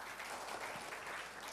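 A church congregation applauds during a service, a brief, soft, dense patter of many hands clapping heard from a distance for a second or two.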